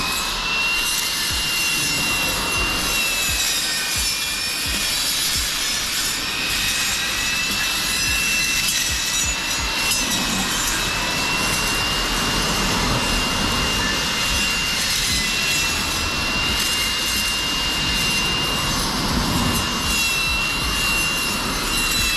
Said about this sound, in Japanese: 車がいない時を見計らって草刈りやっていきたいと思います。